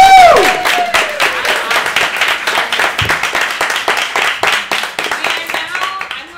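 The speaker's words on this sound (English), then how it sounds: "round of applause for me" Workshop attendees at a Fringe festival session clap for the presenter, a loud burst of applause that settles into rhythmic, evenly spaced claps with a cheer at the start.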